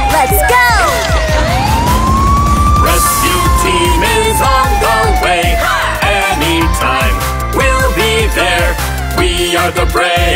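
A wailing siren rises and falls over busy music with a steady beat, loud and continuous throughout.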